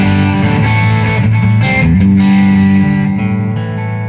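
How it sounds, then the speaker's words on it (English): Electric guitar with Mojotone silent-coil pickups and a Seymour Duncan Phat Cat bridge pickup, played loud through a Bad Cat Cub amp with its own distortion, sustained gritty chords ringing alone. "I'll turn the distortion on the amp a little bit."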